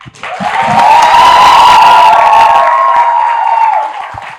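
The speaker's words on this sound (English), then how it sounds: "And for that, I think we should clap." A large crowd at an interview event with the actress claps and cheers loudly, with high whoops and shouts rising over steady applause before it fades.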